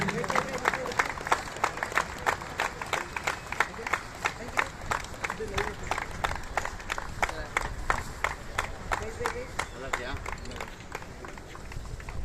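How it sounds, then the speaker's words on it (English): Crowd at a turf sports match claps in sharp, rhythmic beats, fairly regular and moderately loud, with voices and background chatter mixed underneath. "Come on, clap please, please."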